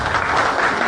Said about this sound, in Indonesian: Aplaus untuk Bante Utamo.